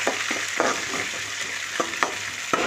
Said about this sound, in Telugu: అవి మొత్తం బాగా వేగుతాయి కాబట్టి వెంటనే టమాటో వేసి కలిపి